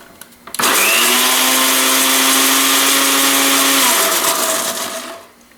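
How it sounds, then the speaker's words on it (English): A blender whirs loudly and steadily for about four seconds while blending extra virgin olive oil with basil for a walnut pesto, starting abruptly and winding down at the end. "I'm going to blend it up"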